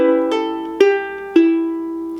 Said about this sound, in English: So this last bar of this little 4-bar section will sound like this.